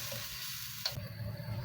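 Water poured into a hot pan of chicken sambal with shallots and bird's eye chilies, a faint sizzle that flares into a brief sharp hiss and crackle, quiet and close, with no voices.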